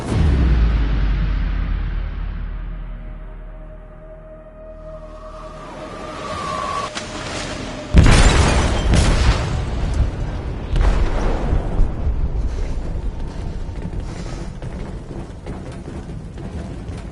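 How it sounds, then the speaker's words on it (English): A large explosive blast goes off in a ship's hold in Detroit: Become Human, a sudden loud boom after a quieter rumbling lead-in, followed by long crackling, rumbling debris and echoing aftermath. "They detonated an explosive in the hold."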